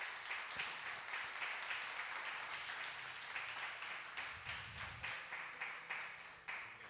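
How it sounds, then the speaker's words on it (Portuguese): A church congregation applauds for Jesus during a Pentecostal service, faint and somewhat distant, with many hands clapping in a loose, slightly rhythmic pattern, and brief musical or vocal tones sounding beneath. "Eu ouvi uma salva de palmas bem forte para Jesus."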